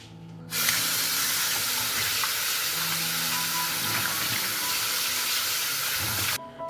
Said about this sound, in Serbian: I ovako oljušten krompir odnosim sad da ga operem pod mlazom vode.